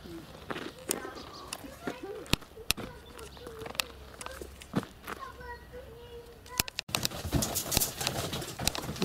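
Pigeons coo softly at a backyard dovecote, with repeated low calls, scattered wing flaps and footsteps nearby, while someone talks over them throughout.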